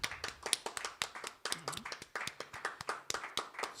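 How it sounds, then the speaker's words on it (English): A small audience at a songwriters-in-the-round show claps for songwriter Cameron Sutphin, a light steady patter of individual hand claps, quick and uneven, close and moderately quiet, with a brief murmur of voices underneath. "And another big round of applause to Cameron Sutphin."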